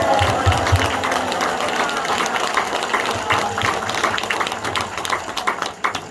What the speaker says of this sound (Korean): 오늘 존경과 공경의 마음으로 여러분과 함께 목사님께 박수를 한번 크게 보내드립니다.